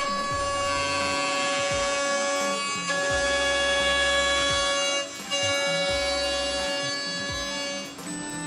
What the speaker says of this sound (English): We finish the edges with our router